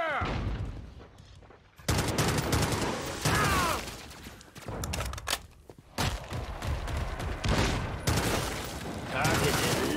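Gunfire in a video game, with loud bursts of rapid shots repeating in several heavy volleys separated by brief quieter gaps, close and dominant.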